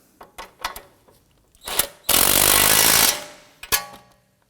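A nut on a Volvo XC90 front inner tie rod is run down with a power tool in a loud one-second burst of rattling impact, framed by scattered clanks and taps of tools and parts.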